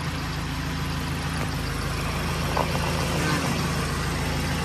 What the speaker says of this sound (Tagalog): Pag hinila ko yan, tinan nyo, mababa minor yan. Ayun o, nangatal, di ba?